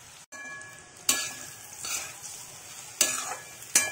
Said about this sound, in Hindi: रोटियां डाल करके भून लेंगे